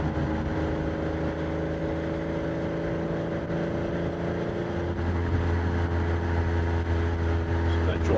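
A Porsche 987 Boxster engine pulls in third gear above 3,000 RPM, a steady droning hum that deepens and strengthens partway through as the car accelerates, heard from inside the cabin.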